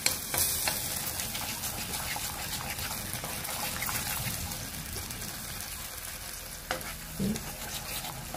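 Spicy enoki mushroom sauce bubbling and sizzling steadily in a pan, a dense continuous crackle with faint stirring, close and fairly loud with no voices.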